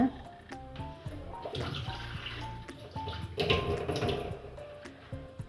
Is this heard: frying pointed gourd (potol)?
no